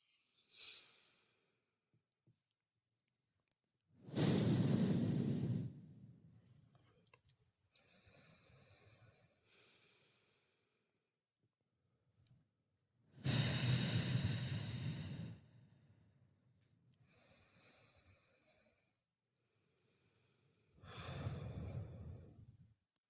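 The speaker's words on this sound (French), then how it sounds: "je vous invite à faire 3 grandes respirations" Three slow, deep breaths are drawn close to the microphone, each one a long, loud rush of air followed by a quieter release, separated by long near-silent pauses.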